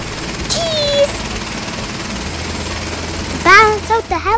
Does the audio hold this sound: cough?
no